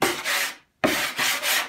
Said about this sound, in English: And of course, 100 grit sanding pad.